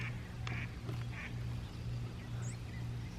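Ducks at a campground quack repeatedly in short raspy bursts over a steady low background hum, fairly close, with no one talking.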